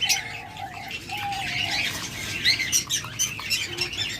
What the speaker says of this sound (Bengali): বাজরিগার দেখাই, দেখুন